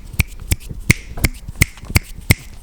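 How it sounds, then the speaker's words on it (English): Seven sharp finger snaps ring out at a steady, even pace, crisp and close, with no talking over them, as applause-style snapping after a spoken-word poetry piece. "Love the snap clap."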